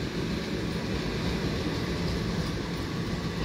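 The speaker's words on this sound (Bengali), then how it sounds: "ফুল এক্সপ্রেস অর্থাৎ Howrah Suri express Bandel railway junction অভিমুখে যাচ্ছে।" Hool Express, the Howrah–Suri Express, rolling along toward Bandel Railway Junction, giving a steady, loud, continuous rumble with no pauses and no voices.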